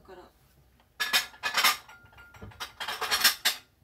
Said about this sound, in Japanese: まずはお皿とかを一旦片付けます。